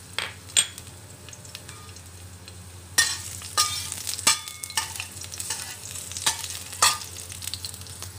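Garlic sautés in cooking oil in a pan, a steady close sizzle running throughout, punctuated by sharp metallic clacks of a utensil against the pan.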